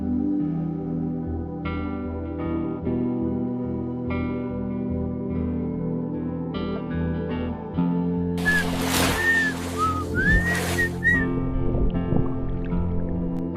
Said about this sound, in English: Listen, those are dolphins talking to each other.